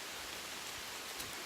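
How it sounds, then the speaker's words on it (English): Heavy rain falls on a tent along the Appalachian Trail, a faint, even hiss of dense drops with no voices. "it's raining so much"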